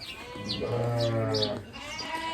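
A sheep in a pasture full of sheep gives one long, wavering bleat close by, with faint chirps and outdoor ambience around it.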